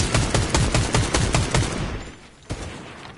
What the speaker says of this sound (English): people shooting from another direction